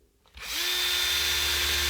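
A power drill with a new step bit spins up and pre-drills a pickup cover, a steady loud whine that rises quickly and holds, close by.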